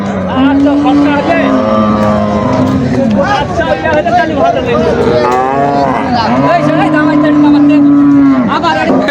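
Cattle moo loudly and close by at the Choubaria cattle market, with long drawn-out bellows rising over the steady din of a crowded outdoor market with people talking.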